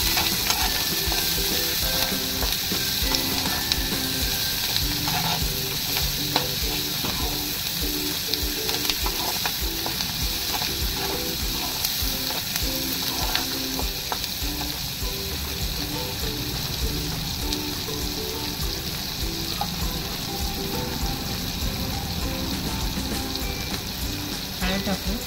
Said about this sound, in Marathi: कांदा पटकन परतावा म्हणून त्याच्यासाठी आपण त्यात थोडंसं मीठ टाकू